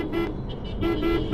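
Traffic in Bhutan with a car horn giving several short toots, two of them close together near the end, over low road rumble.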